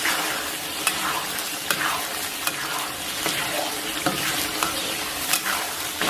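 Scallion and ginger stir-fry in hot oil in a wok with Pixian chili bean paste, fresh chili sauce and chopped chili sauce. A continuous close sizzle runs under repeated sharp scraping strokes of a spatula.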